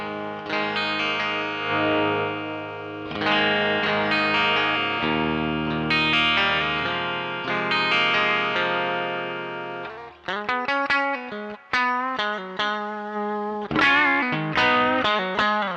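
Electric guitar through Caline pedals with the guitar volume rolled back, giving a clean, bright tone playing sustained chords, then quicker picked notes and bends, ringing with slight shimmer.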